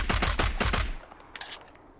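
Suppressed pistol shots in Fallout 4, a rapid string of about five muffled, punchy reports in quick succession, then a couple of faint clicks and quiet tail with no talking.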